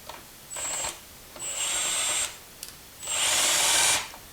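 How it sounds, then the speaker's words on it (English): Cordless power drill driving a hex head to adjust the height of a custom screen door, three separate whirring bursts of increasing length, close and loud, with short pauses between. "then I can use a drill. I've got a hex head in here"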